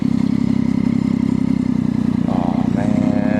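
A stunt motorcycle fitted with a cage and a loud aftermarket exhaust idles with a steady, throbbing rumble, close and loud, while someone talks over it.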